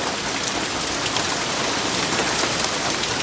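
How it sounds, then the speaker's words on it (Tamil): Steady, heavy rain pours down without a break, a dense even hiss with no voices or thunder. "இந்த மழை வேற எப்போ விடும்னு தெரியலையே"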